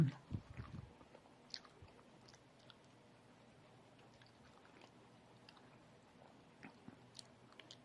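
Durian fruit being chewed close by, with a few soft bites and squishy mouth sounds near the start, then faint quiet chewing over low background noise.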